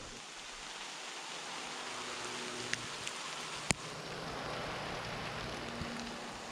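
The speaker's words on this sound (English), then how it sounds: "I love when the wind blows like this after rain and you think, oh, it's raining harder. No, it's just shaking off the trees." Rain drops being shaken off trees by wind after a shower, a steady hiss like falling rain with scattered sharper drip ticks, heard outdoors at moderate distance.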